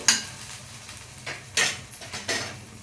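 Green chilies frying in oil in a kadai on low heat, with several distinct scraping clinks of a spatula stirring the pan over a soft background sizzle.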